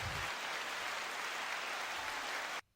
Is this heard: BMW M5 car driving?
no